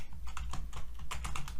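Fast typing on a computer keyboard, a close run of crisp, uneven key clicks with no pauses over a short stretch, set at a desk while entering a package install command.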